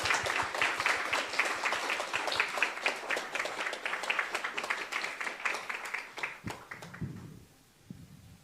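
An audience at a business forum chapter meeting welcomes Shri Anant Nagaraj with a round of clapping, dense and steady for about seven seconds, then dying away as a voice begins.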